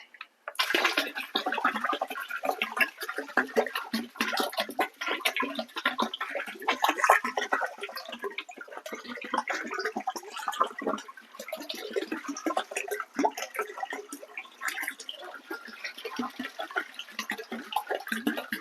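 Water pours and splashes steadily for a long stretch, close and fairly loud, as about 100 litres go into a mix of 5 litres of EM and 5 kilos of country sugar for natural farming.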